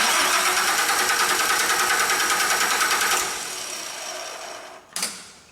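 Fuel pump running on a Nissan SkyJack scissor lift, a steady mechanical whir that holds for about three seconds, then drops to a quieter hum, with a brief click near the end.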